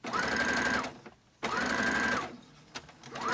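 Sewing machine stitching short curtain fabric with small holes that make it hard to sew, two close bursts of fast whirring rhythmic stitching separated by a short pause, then a third starting.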